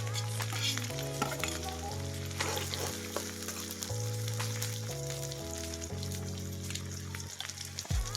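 Dried onion frying in a pan while a vegetable curry is cooked, with a constant close sizzle, crackles and stirring, with no voices.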